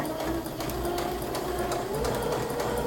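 A sewing machine runs steadily while stitching a straight line, a continuous close mechanical whir with a faint rising motor whine, no talking.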